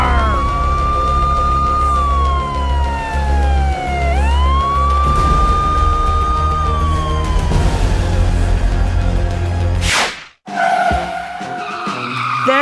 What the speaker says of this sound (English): Go, police car!